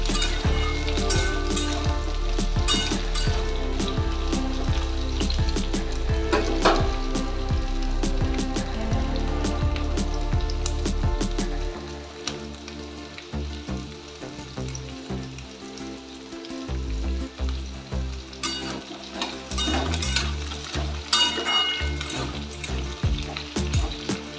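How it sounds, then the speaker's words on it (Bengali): Potatoes and onion frying in a pan for a Bengali fish-head curry give a steady, close sizzle. The crackle is dense and loud throughout, with occasional stirring scrapes and no talking. "এবার পেঁয়াজটাকে দিয়েও আমি কিছুক্ষণ ভেজে নেব।"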